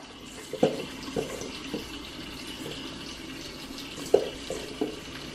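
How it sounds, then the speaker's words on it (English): Hot water running from a kitchen tap while making homemade flour tortillas, a faint steady stream broken by a few louder splashes and knocks, heard alone without speech. "And you may hear my water going."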